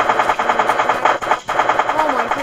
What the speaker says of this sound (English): I shot Brian there.